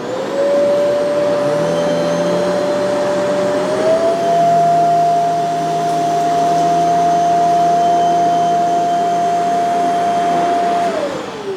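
A Shark CZ351 canister vacuum runs continuously over a dirty rug, a loud steady motor whine and airy rush with a slight pitch rise after a few seconds, close up and with no voices.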